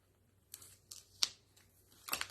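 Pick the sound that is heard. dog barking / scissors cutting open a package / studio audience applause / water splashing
scissors cutting open a package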